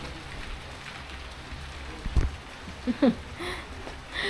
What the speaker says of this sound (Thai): ไอ้ฝนมันตกเนาะ